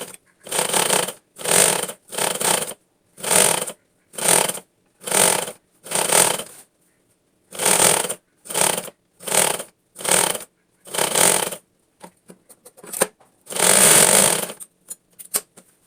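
A sewing machine stitches the cross piece of a straight churidar, running in about a dozen short, loud bursts of rapid mechanical chatter separated by brief pauses, close up and without talking.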